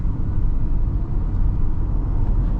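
2026 Kia EV9 GT-Line electric SUV accelerating from around 25 mph, a steady loud low road and tyre rumble heard from inside the cabin, with no engine note and no talk.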